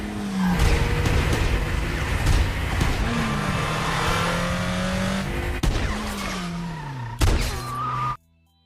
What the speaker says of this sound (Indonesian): Lalu Ethan menyundul mobil mereka dari belakang dan terjadilah aksi kejar-kejaran di tengah kota.